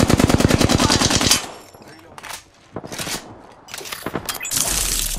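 Rapid automatic gunfire in Apex Legends, a loud fast burst at first, then a short pause and a couple more close bursts separated by brief gaps.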